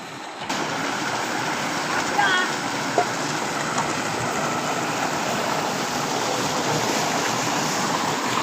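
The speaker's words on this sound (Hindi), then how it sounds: "बहुत ज़बरदस्त पानी निकला" Steady broadband rush of water pouring forcefully from a solar-powered pump outlet, a continuous roar with wind-like hiss, loud and close, no voices.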